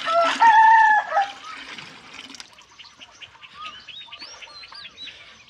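A loud rooster crows close by at the start, followed by quieter chirping birds in the distance.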